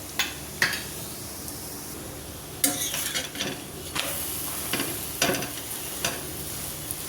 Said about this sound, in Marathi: मस्त याला 2 मिनिटं बारीक गॅसवर छान भाजायचं।